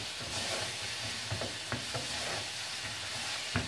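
Mango pieces drop into a pan of simmering mango chutney, a steady soft sizzle and bubbling close by with a few light stirring clicks and taps.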